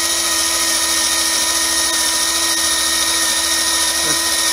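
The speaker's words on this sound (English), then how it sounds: "I just have this on a cordless drill" A $29 Harbor Freight cordless drill spins a 3M stripe remover wheel while peeling decals off an eagle design, giving a steady, loud whine with a constant hum from start to finish and no talking.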